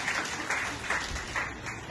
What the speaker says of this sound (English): yeah, you can clap please